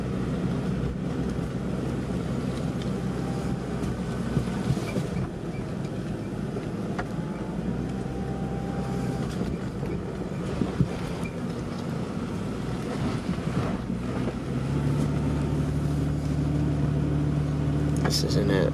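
An old Jeep's engine drones steadily in second gear while climbing a hill, a continuous low rumble with road noise, a slight rise in pitch near the end, and someone talking over it.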